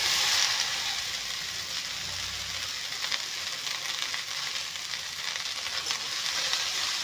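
Okra sizzles and fries steadily in hot refined oil with dried fish, a continuous crackling hiss close up with no talking.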